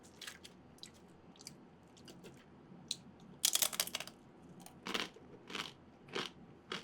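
Crunchy ramen noodles bitten and chewed close up, a run of crisp crackling crunches with a louder burst midway, then scattered wetter chews, no talking.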